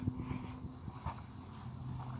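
A horse trotting, with a steady run of soft, even hoof beats at moderate distance under faint background noise.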